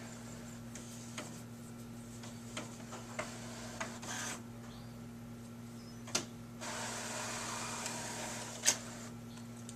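A Cricut Imagine cutting machine draws in paper and works on its own: a low steady motor hum with scattered soft ticks and clicks and a brief whirring stretch of feeding, fairly quiet and close.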